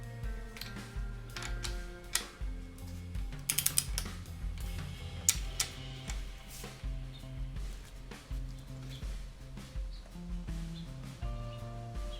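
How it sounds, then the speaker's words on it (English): A torque wrench tightens bolts on a Chevy small-block 350 during piston installation, giving quiet ratcheting clicks in short bursts, a sharp cluster of ticks near the middle, with steady mechanical rattles and no talking. "torque wrench already set for 45, so I'm gonna go ahead and torque these down to 45."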